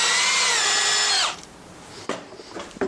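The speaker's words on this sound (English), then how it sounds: "If it is possible to drill the hole." A power drill whines at high speed for about a second, then winds down, followed by a few faint clicks and taps.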